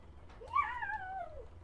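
A pet cat indoors gives a single drawn-out meow, rising then falling in pitch, fairly close against a quiet room with a low background hum.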